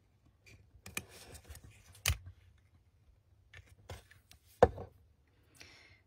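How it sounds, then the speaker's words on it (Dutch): Scissors snipping off excess double-sided tape, a few sharp faint close clicks and snips spaced irregularly in a quiet room. "En het overschot, dat knip je eraf."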